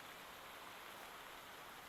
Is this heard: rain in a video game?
yes